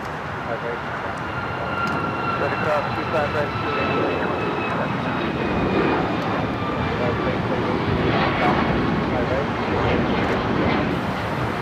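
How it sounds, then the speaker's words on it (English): An Alaska Airlines Boeing 737 MAX 9 jet roars steadily at LAX, a loud, sustained engine rumble with a high whine layered above, holding strong throughout. "Next flight heading out, Alaska Airlines flight 1360, heading to Cabo, a 737 MAX 9."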